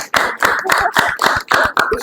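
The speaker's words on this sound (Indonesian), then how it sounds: "Ya, beri tepuk tangan untuk kita semua dulu." Group of classmates clapping after a debate presentation, about seven or eight bursts of claps in an uneven rhythm, close and moderately loud with no talk over it.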